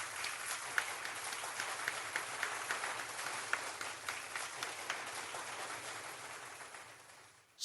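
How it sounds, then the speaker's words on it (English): Steady applause from a crowd plays for several seconds on a talk radio show. The applause is even and moderately loud, with sharp individual claps, and thins out toward the end. "I'm going to applaud myself anyway"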